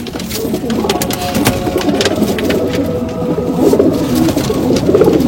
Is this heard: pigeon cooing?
yes